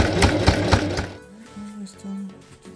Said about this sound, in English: do same top stitching on there, just like what we've done on this top stitch this corner